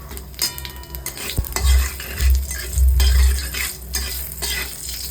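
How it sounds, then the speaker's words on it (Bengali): Dried red chillies and nigella seeds sizzle in hot oil in a kadai, a steady close frying crackle with bursts of stirring and a metal spoon scraping the pan. "ডালে আমি ফোড়নে দিচ্ছি শুকনো লঙ্কা আর কালো জিরে।"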